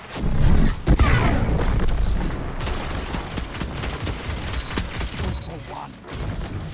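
Burst fire from a gun in a Destiny 2 match, several quick volleys of shots mixed with game effects and a heavy boom at the start, with no talk over them.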